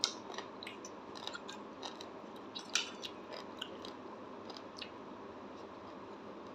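Someone chews and tastes a spicy Lao-style dip of roasted, pounded straw mushrooms, with soft, close, irregular wet crunching and biting over a quiet background hiss and no talking.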